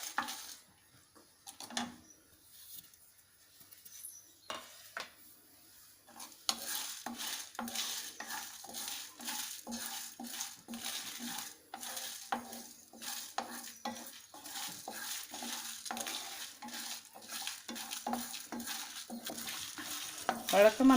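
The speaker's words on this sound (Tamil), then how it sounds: "இப்போ நம்ம ஸ்டவ் பற்ற வச்சுட்டு இந்த மசாலா எல்லாமே ஒன்றா போட்டு வறுத்துக்கலாம்" Rasam spices dry roasting in a pan without oil, a spoon scraping and stirring in a steady repeated rhythm with a soft crackle, close and fairly quiet, after a near-silent start.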